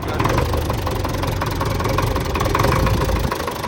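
A small engine on a homemade lift idles steadily just after starting, a loud, even, close chugging drone with no talking.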